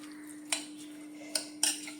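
A spoon clinks three times against a pot while curry is mixed with salt, the sharp metallic taps spaced apart over a steady low hum, with no talking.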